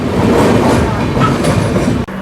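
Aboard the 18190 Ernakulam–Tatanagar Express nearing Aluva station in Kerala, a loud, steady rumble of wheels and carriage clatter fills the space, with a brief dip just before the end.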